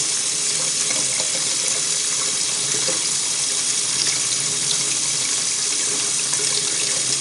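Hot water running from a tap in an apartment, a loud, steady, hissing stream pouring continuously without pause.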